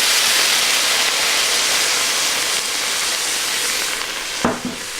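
Red wine poured into a hot beef stew pot to deglaze the bottom, a loud, broad, close hissing sizzle that eases slightly before a brief clatter near the end, no talk.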